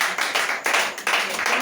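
A congregation claps during a church gathering, with several loud bursts of applause-like clapping close by, and voices are mixed in.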